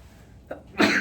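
In a classroom during an algebra lesson, a single sharp sneeze bursts out after a short in-breath. It is brief and moderately loud against a quiet room.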